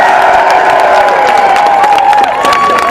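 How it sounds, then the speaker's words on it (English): A large crowd at a street march cheers and claps loudly, with sustained whistles and shouts over a dense wash of applause. "Let's have a huge round of applause for Scotland generally."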